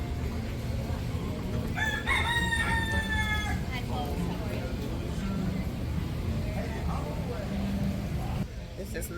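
A rooster at a Key West chicken coop crows once, loud and drawn out, over steady outdoor traffic rumble and crowd noise, with people talking nearby.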